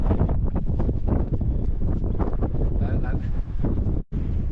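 Strong winter wind roars and buffets the microphone steadily at a snowy outdoor campsite in Xinjiang, loud throughout with a brief dropout near the end, and a voice speaks briefly over it.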